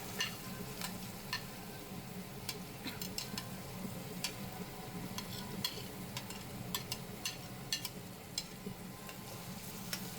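Onion and green chili are stirred and fried in a pan: a faint, steady sizzle with scattered light clicks of a spoon against the pan.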